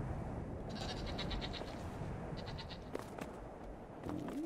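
Goat bleats from the video game Brothers: A Tale of Two Sons, several short high calls repeating over a steady outdoor ambience and music bed, with a fainter cry near the end.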